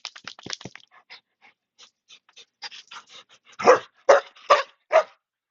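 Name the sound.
dog barking loudly at neighbor dogs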